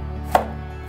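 A kitchen knife chops carrot on a board, with one sharp chop near the middle and another right at the end, both fairly close over a low steady hum and with no voices.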